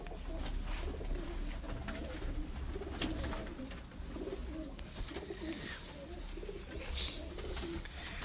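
Firozpuri pigeons cooing close by in repeated soft, throaty coos over a rustling background.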